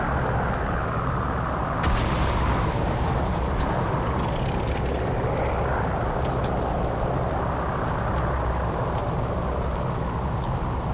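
B-29 bomber engines in War Thunder, a continuous heavy droning roar with a brief louder burst near the start, steady and close, no talking.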